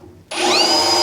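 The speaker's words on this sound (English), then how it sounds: "I'm just going to drill up roughly in the center of here" Power drill biting into the metal of a 1953 GMC front end: a sudden loud, steady whine that starts after a short quiet moment and holds close and strong to the end.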